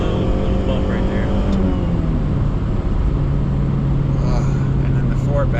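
A 1992 Honda Accord wagon with a swapped F20B VTEC engine drones steadily from inside the cabin, its pitch climbing slightly as it pulls harder, loud and continuous beneath people talking.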